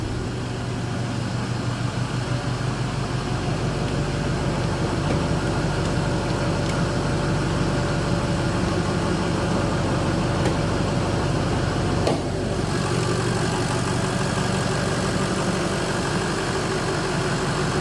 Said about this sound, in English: I have the exhaust fans going